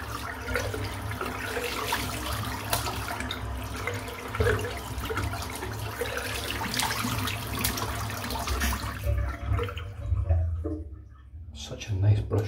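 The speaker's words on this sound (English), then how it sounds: "Rinsing their brush out." A Shavemac 26mm silvertip shaving brush rinsed under a running tap, a continuous close splashing and hiss of water that thins out near the end.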